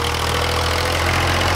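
A 1989 Massey Ferguson 240 tractor engine runs at a steady, loud, close idle-like throb while the tractor pulls an 11-tine cultivator in hard ground, with no talk over it.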